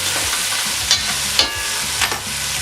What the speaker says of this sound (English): now that the onions are cooking